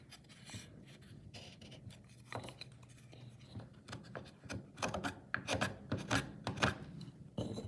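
A pencil marks parallel lines on a small wood block for mini table cross rails, giving quiet scratchy rubbing strokes that come in short bursts and grow busier and louder toward the end.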